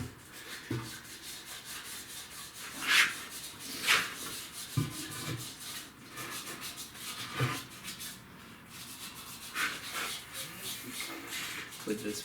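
An engine cylinder head from a 2006 Subaru Outback SOHC being sanded with 180 grit sandpaper, producing repeated close rasping strokes in a steady back-and-forth rhythm, with talking over part of it.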